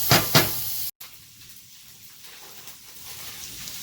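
Sausage frying in a pan on the stove gives a steady bright sizzle and hiss, with a couple of sharper crackling bursts at the start before a brief dropout.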